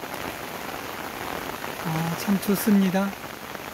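Heavy summer monsoon rain falls steadily on a rice paddy path with a hazy mountain view, a constant hiss of drops throughout, while someone speaks briefly near the end.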